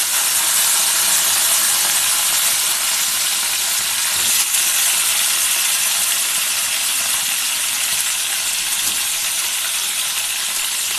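Brinjal (eggplant) pieces fry in hot oil with a loud, steady, close sizzle and hiss that continues unbroken throughout.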